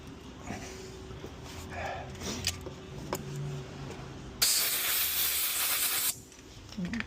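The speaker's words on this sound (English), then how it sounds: "bit of brake cleaner down the hole" Brake cleaner sprays down a glow plug hole on a Holden Colorado engine, a sharp close hiss lasting under two seconds, preceded by faint workshop clinks and rustling.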